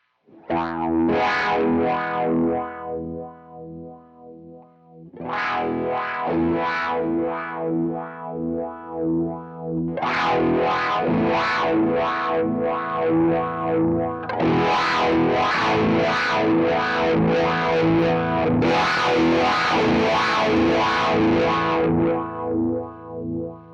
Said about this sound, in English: it was actually overdriving my amp sim that I'm running into